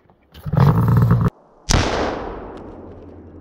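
A Polaris snowmobile under fuel-system recall is pull-started and blows up: a loud engine burst cuts off, then after a short gap a single sharp explosive bang rings out and decays over a couple of seconds.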